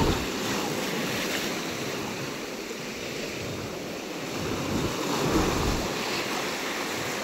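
Big sea waves surge and break at Digha beach, a continuous loud roar of surf with rising swells and wind buffeting the microphone throughout.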